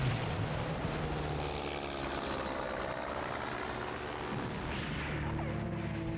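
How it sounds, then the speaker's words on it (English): A seaplane engine drones in the Evolution Worlds GameCube game as the plane flies away, a steady loud propeller hum with layered tones holding throughout, then thinning slightly toward the end. "So they got the seaplane working and then just bounced."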